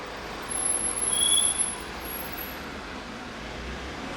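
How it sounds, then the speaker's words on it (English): A car driving past outside a home garage, a soft low rumble that swells briefly and fades back into steady background noise. "a car just passed"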